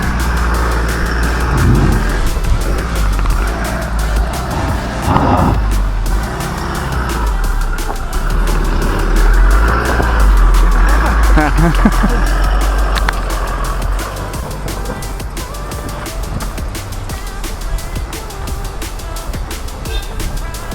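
A car reverses on a steep, rough off-road track near Bijanbari in Darjeeling. A loud engine drone runs throughout and strains in bursts, with people talking intermittently over it.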